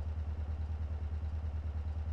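Idling motorcycle in GTA MTA, a close, even, throbbing low rumble repeating in a steady rhythm with no talk.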